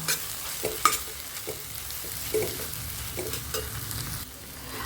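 A spoon stirring pumpkin and semolina halwa as it fries in a pan, giving quiet repeated scraping strokes over a soft, steady sizzle, with no voices.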